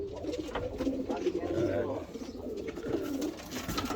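Pigeons coo throughout a bird loft, a steady, low, rolling murmur of several birds with overlapping calls, close by and continuous, with no voices.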